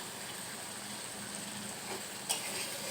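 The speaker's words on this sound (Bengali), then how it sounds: "এই বাকি জলটা যে ছিল, এটাও আমি কিন্তু দিয়ে দিচ্ছি।" Water goes into a pan of frying spice masala, giving a low, steady sizzle with a faint hiss and a small clink partway through.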